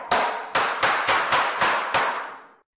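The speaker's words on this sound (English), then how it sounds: "A builder uses a hammer." A builder strikes with a hammer: seven sharp, evenly spaced blows fairly close, each ringing briefly, with no voices.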